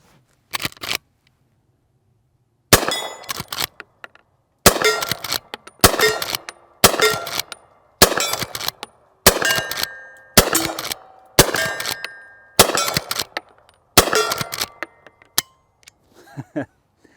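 Henry Big Boy Steel lever-action rifle cycling .32 S&W Long cartridges, a string of about ten crisp metallic clacks and clangs from the lever being worked at close range, with brief pauses between, and no talk.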